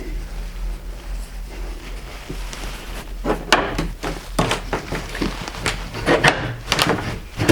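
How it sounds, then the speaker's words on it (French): A door opening inside an abandoned building in a deserted hamlet, a series of wooden knocks, creaks and bumps over a low steady rumble. "Par contre, là, il y a une porte."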